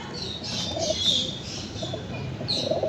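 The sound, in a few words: pigeons cooing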